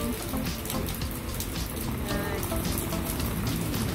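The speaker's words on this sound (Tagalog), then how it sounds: "nabutan kami ng malakas na ulan" Heavy rain pouring beside a road near the Rhine in Königswinter: a dense, steady, close hiss of drops hitting surfaces for the whole stretch, with no talking.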